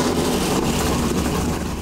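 A Ford 557 cubic-inch V8 runs on an engine dyno with a big-cubic-inch rumble, a loud, steady low throb throughout the short stretch with no talk.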